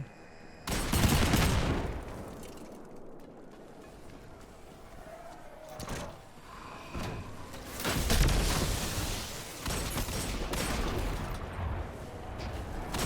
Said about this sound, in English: Ignore my horrible handgun shots.